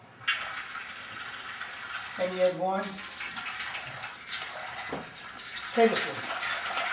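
Cold water is poured a tablespoon at a time for apple pie pastry, giving a steady, faint hiss of running liquid throughout, with a voice speaking briefly over it twice.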